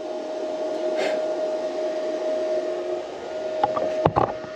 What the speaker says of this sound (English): Well, it welds. It shoots out hot molten something or other.